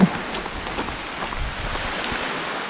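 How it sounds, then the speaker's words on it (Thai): Rain falls steadily as a broad, even hiss near a cave in Laos, soft and continuous with no voices. "ฝนตกฝนตก"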